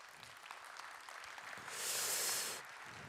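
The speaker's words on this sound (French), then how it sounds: "On peut les applaudir chaleureusement." An audience at an awards ceremony bursts into applause that swells for under a second of build-up, holds loudly, then fades after about a second, over a hum of room noise.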